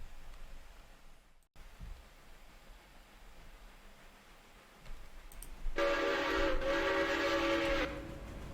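Freight train in the Railroader video game arriving at Bryson, sounding its horn in one sustained, bright multi-tone blast of about three seconds over low rumbling engine and track noise.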